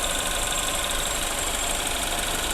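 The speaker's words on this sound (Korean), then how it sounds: "엔진 소리 역시도 매우 일정하고 아주 좋네요." A Chevrolet Alpheon CL240 engine idles steadily, a constant mechanical hum and rattle with no voices.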